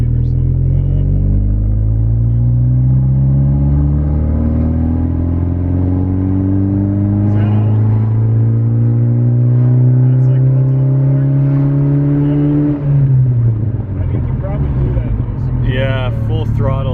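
A 1999 Saab 9-3 with a newly fitted crossflow intercooler and blow-off valve accelerates hard at full throttle, its engine note climbing steadily and loudly for about twelve seconds before abruptly dropping off as a charge pipe blows off, with voices speaking over it.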